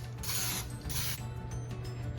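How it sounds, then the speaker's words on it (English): Olive oil cooking spray hisses onto a muffin tin in two short, steady bursts, close and fairly loud, over a faint low kitchen hum. "So I'm going to lightly spray them with an olive oil spray so they don't stick."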